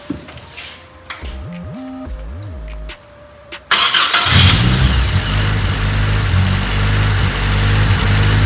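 A Honda Civic EK engine cranks a few times with a whirring starter, then catches and runs loud and close at a steady, rough high idle that goes on to the end.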